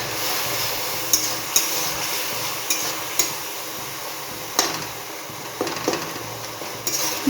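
Ginger paste and spices sizzle steadily in a pan for ghugni, a peas dish, with sharp scraping stirs and utensil taps at intervals over a continuous close fry.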